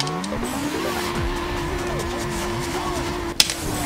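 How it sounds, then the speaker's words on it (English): A supercar in the racing video game Burnout 2 launches from the start with a rising engine howl and tire squeal, steady and close throughout, with a brief sharp click near the end. "Now let's show our opponent how fast the supercar really is."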